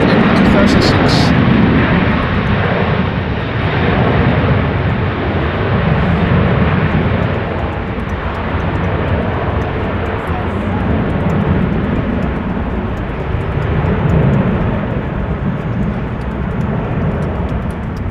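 Aircraft PH-AOD, an 18-year-old airliner first flown in April 2006, roars loud and steady at wet, windy Amsterdam Schiphol, its broad engine noise sustained throughout with no break.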